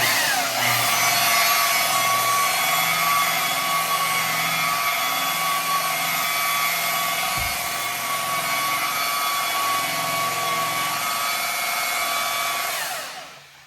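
A buffing pad loaded with compound polishes a surface under a rotary buffer, producing a loud, steady motor whine with a constant hum that runs unbroken for about thirteen seconds before winding down at the end.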